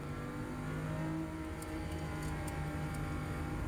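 A race car at Spa-Francorchamps brakes hard and downshifts, its engine droning loudly and close with low rumbling and rising, blipping tones as the gears drop, with no talking.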